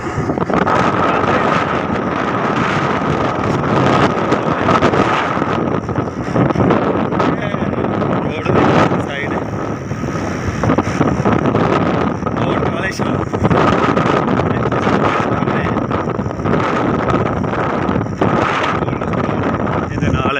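A Suzuki 110 motorcycle is ridden on a road in Pakistan, its steady engine drone buried under continuous heavy wind buffeting for the whole stretch, with a voice faintly audible in the mix.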